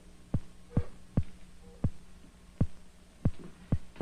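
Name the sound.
electric eel's electrical discharge heard through a loudspeaker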